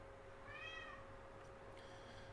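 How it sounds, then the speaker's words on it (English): A cat gives a single faint meow in the background, followed by a softer brief chirp, over a quiet steady hum. "if you hear my cat in the background, I'm sorry, there's a cat in the background."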